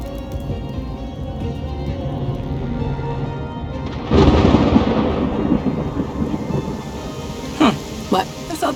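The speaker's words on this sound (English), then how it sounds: "I thought the rain would hurt." Steady rain with rumbling thunder in the video game Afterparty, a loud thunder crack swelling midway over continuous low rumble and rainfall, with a few sharp sounds near the end.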